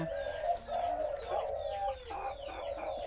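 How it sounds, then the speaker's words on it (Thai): A spotted dove of the wild-colour type with a big, deep three-note crowing call coos in a steady repeated series of low, rounded notes, fairly close and clear against a quiet background, with no voices. "วันนี้ หนิงจะมารีวิวสีป่าขันโยนสามกุกเสียงใหญ่ตัวนี้ให้ชม"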